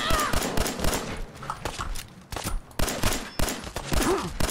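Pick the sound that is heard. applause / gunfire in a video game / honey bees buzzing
gunfire in a video game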